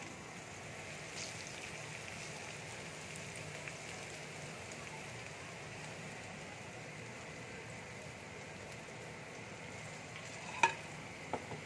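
Ground spice paste fries in a pan for achari bhindi, giving a faint, even sizzle that runs steadily throughout, with a couple of tiny clicks near the end.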